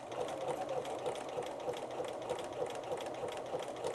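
Sewing machine sewing a buttonhole with a very small, near-zero stitch length, giving a fast, even whirring chatter that runs steadily and close for the whole stretch.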